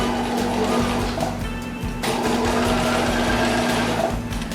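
Sewing machine running a straight stitch through leather for a barrel bag, a continuous close mechanical whir with a steady rapid needle rhythm, briefly easing and picking up again around the midpoint.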